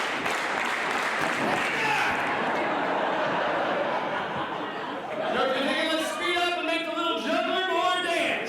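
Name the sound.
audience steady rhythmic hand clapping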